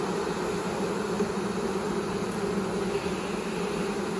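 A huge honeybee swarm in a backyard gives a steady, dense buzz that fills the whole stretch evenly with no pauses.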